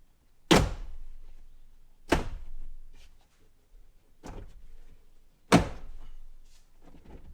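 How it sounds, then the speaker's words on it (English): The interior door panel of a Ram Rebel pickup is popped off, heard as four sharp, loud plastic clunks spaced a second or two apart, each one snapping and then trailing into a brief rattle, close by with no talking. "and then the whole door panel itself will pop off."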